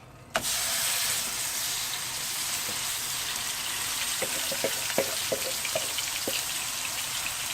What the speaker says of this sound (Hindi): अब इसमें हम कीमा डाल देंगे।